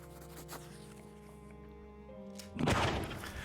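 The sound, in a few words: nearby gunshot in the video game Sir Brante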